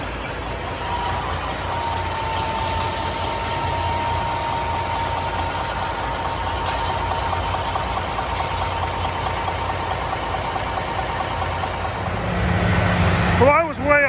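A wood chipper engine runs at a steady, loud, rough drone while its drive belt is flipped back on, ending with a heavier surge and clunk.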